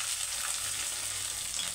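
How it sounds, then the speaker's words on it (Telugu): Thinly sliced onion pieces with curry leaves frying in hot oil for tomato rice, a steady close hiss of sizzling that holds evenly throughout without pauses. "ఉల్లిపాయ ముక్కలు బాగా వేగాలండి"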